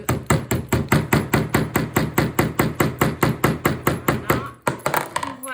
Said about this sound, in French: On l'aide avec le marteau.